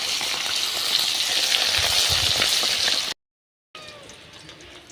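Fish frying in oil in a wok produce a loud, dense, continuous sizzle up close for about three seconds, then a sudden cut to silence before a quieter sizzle resumes.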